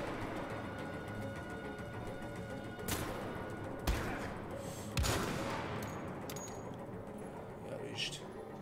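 Gunfire in the video game Wolfenstein: The Old Blood, a handful of sharp, separated shots cracking over a constant background din while someone speaks.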